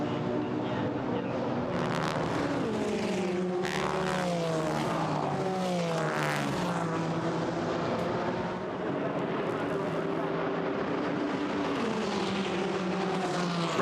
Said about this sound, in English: Race leaders go by, down towards the first chicane